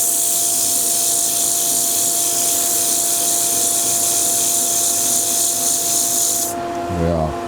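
A wood lathe spins a patio skittle under sandpaper, giving a steady, close hissing hum that cuts off near the end as the spinning winds down, with a voice speaking briefly.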